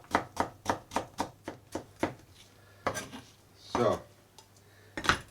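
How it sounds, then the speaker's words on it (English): A knife julienning vegetables for kimchi on a cutting board: a quick, even run of about eight sharp chops, then a few slower scraping and tapping strokes, close and clear, with a brief word spoken. "What I'm going to do is slice these. Okay. So, I'll just julienne these."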